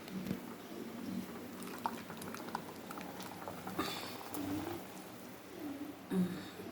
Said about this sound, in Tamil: 2 கொதி கொதிக்கட்டும்